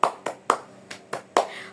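Six crisp hand claps in a quick uneven pattern, the rhythmic tepuk semangat clapping game played in a classroom, close and clear with no talking.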